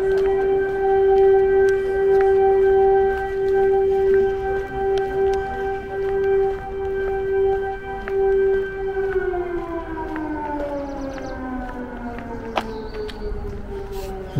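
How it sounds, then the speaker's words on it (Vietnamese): A civil defense air raid siren wails across a Ukrainian city, a loud sustained tone holding steady before sliding downward as it winds down, with no talking. "Các bạn có nghe tiếng còi báo động đằng vang ầm khắp thành phố không?"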